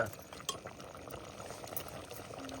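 A ladle stirs spice masala through goat mutton curry in a pot, with soft continuous scraping and sizzling bubbling close by and an occasional metallic clink, no talk.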